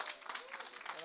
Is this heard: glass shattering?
no